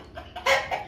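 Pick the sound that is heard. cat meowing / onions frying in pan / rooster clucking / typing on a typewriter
rooster clucking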